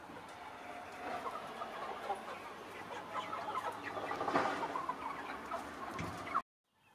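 Many incubator-hatched goslings and ducklings peep and cheep in a busy, overlapping chorus at moderate volume, ending abruptly.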